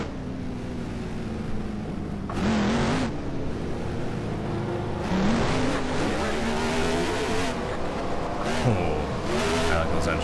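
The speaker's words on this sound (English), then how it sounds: "Oh, I like those engine sounds." Late model race cars in the NR2003 NASCAR sim at Air Base Speedway, engines droning and rising and falling in pitch as they rev through laps, steady and continuous, with someone talking over them.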